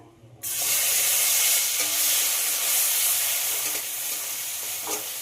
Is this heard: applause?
no